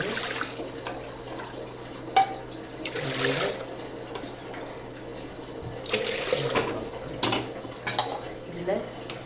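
Water is poured and splashes into a pot for cooking milagu pongal, with clinking pots and utensils in a kitchen and a person talking intermittently in the background.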